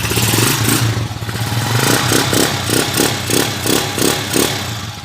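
A Yamaha NMAX version 2 scooter engine, its idle set too low, runs close by with a steady idle broken by a series of short, rhythmic revs, loud and alone.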